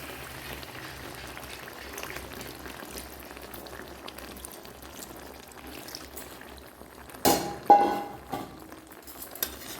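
Water is poured into desi meat curry simmering in oil in a pan, a quiet low bubbling followed by a couple of short splashing bursts and a clink of utensils near the end.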